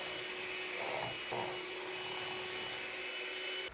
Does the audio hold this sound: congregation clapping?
no